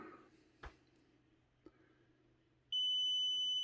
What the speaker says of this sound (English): Once it's done, it beeps.